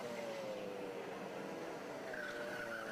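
Racing karts brake hard into Paddock Bend, a left-hand corner at Buckmore Park during a university kart championship race, their engines droning loudly with a rising whine and tyre scrub, a steady close roar throughout.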